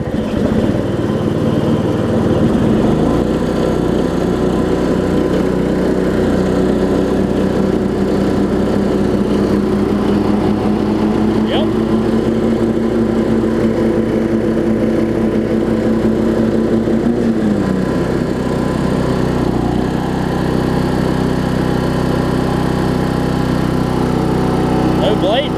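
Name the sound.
Weed Eater AYP riding mower running with blades engaged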